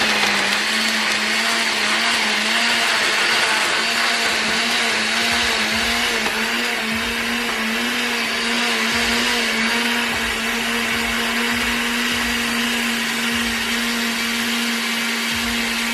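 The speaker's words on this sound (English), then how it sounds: "put it on the blender and put a top on" A blender runs steadily at high speed, a loud continuous whirring hum with no talking.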